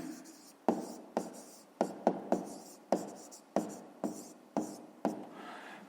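A pen writes numbers on paper during a fifth-grade maths exercise, producing a series of quick, close scratching strokes, each starting with a sharp tap and then trailing off, in an irregular rhythm.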